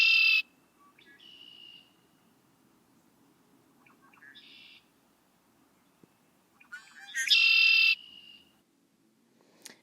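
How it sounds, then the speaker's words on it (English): A red-winged blackbird call plays from a phone birding app: three bright, buzzy trilling phrases separated by quiet pauses, the last the loudest, over a faint low hum. "Let's listen to a red-winged blackbird."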